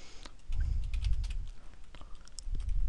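Close, quick typing on a computer keyboard, with rapid light key clicks over a low background hum and no talking.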